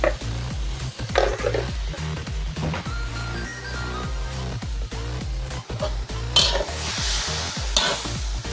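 Pork sizzles in a hot wok while a utensil scrapes and stirs in a steady, repeated rhythm, close and clear with no talking.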